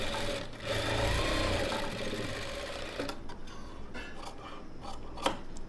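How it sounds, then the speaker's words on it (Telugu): Sewing machine stitching along a blouse edge, running steadily and fairly close for about three seconds, then slowing into lighter intermittent handling noises and a small click. "ఈ చివరగా బ్లౌజ్ అంచు చివరగా కుట్టు వేసుకోవాలి"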